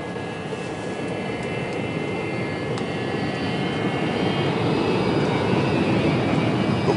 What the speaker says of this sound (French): Pourquoi il décolle pas, ce putain d'avion?